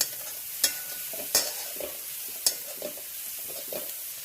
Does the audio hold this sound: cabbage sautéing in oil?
yes